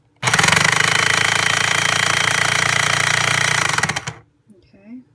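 A Breville Smart Grinder Pro coffee grinder runs empty after its upper burr was removed and refitted, giving a loud, steady motor whir for about four seconds before cutting off, followed by a faint voice.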